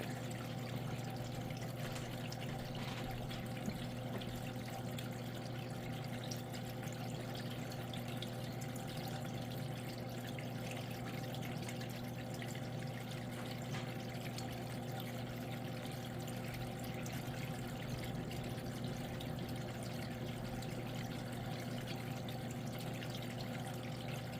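Steady trickling and pouring water with a low constant pump hum, from the flowing-water feature of a custom MGEX 1/100 Strike Freedom Gundam model display, close and continuous with no voices.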